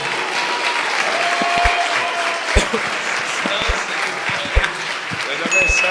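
A church congregation claps loudly and continuously, a dense wash of applause with a few louder individual claps and voices calling out beneath it.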